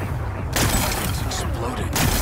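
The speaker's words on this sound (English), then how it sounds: "Gotta blast away some rocks, so I can expose the power cell" A loud blast breaks rocks in Horizon Forbidden West, with a sudden boom followed by a rumbling, crackling spread of debris and a second burst near the end. Voices talk over it.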